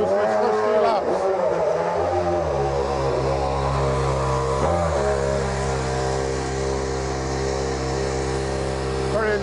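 A Mercedes W03 Formula One car driven by Michael Schumacher runs its first shakedown laps, its engine a loud sustained whine that rises and shifts pitch with a passing swell.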